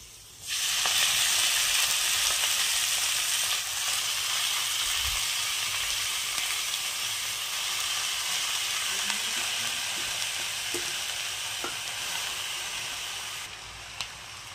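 Garlic and chopped fenugreek leaves fry in a pan with a loud, steady, close sizzle that holds for the whole stretch, with a few faint clinks and scrapes underneath.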